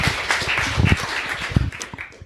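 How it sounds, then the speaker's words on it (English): Audience at a Q&A session of a financial-independence camp claps briefly after a question, a short burst of scattered hand claps that fades out within a couple of seconds. "Great question. Round of applause."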